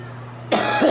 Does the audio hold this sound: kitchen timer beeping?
no